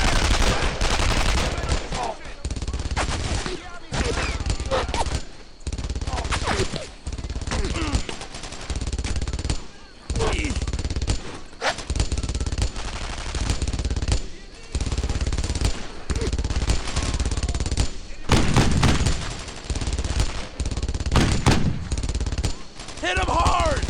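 Bursts of automatic and rifle gunfire from the World War II shooter game Brothers in Arms, loud and near, firing in repeated volleys with short gaps between them and brief shouted voices mixed in.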